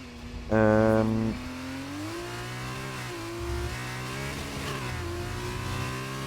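A Formula 2 race car in a racing video game rolls into the pit lane, its engine a loud, tonal whine that rises briefly, then settles into a steady droning hum with gently shifting pitch.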